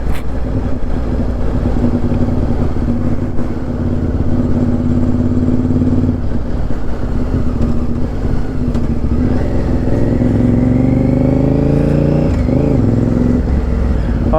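A Honda VTR 1000 motorcycle on the road, its loud, continuous engine drone mixed with wind roar, the pitch climbing and wavering toward the end as the bike accelerates.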